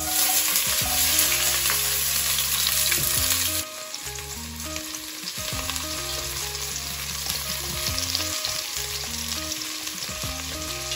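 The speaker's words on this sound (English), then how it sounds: "So you're going to put the red onions in." Red onions frying for jollof rice give a steady, loud sizzle in a hot pan, with a brief dip partway through and continuous crackling throughout, no voices.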